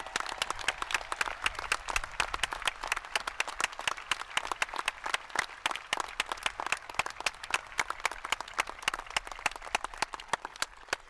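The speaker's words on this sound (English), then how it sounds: "so we can give you a round of applause" An audience at a high school commencement applauds steadily with dense, sustained clapping that holds an even level for about eleven seconds.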